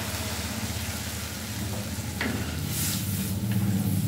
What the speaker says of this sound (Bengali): খুলে দেখছে এরকম ফুটছে